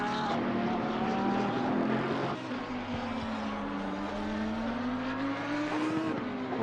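A Cosmos Racing Team Porsche race car in the Assetto Corsa Competizione sim at Donington, its engine droning loudly and steadily with rising and falling pitch through gear changes, alone without talk.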